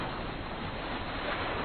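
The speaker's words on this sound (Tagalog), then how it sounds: "Tingnan nyo, mahina ng alon." Ocean waves in an anime episode of Hunter x Hunter, a steady, full wash of surf rolling continuously with a windy, hissing texture and no voices over it.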